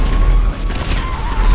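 Continuous gunfire from a shooting character in GTA 5 amid chaotic mod mayhem, a dense, loud crackle of rapid shots over a deep rumble with no pause.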